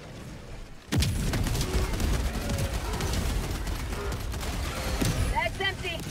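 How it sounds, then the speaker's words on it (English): Orbital barrage strike in Helldivers 2, a sudden heavy blast followed by sustained rumbling booms and crackling gunfire that carry on loudly throughout, with voices over the din. "Orbital barrage incoming."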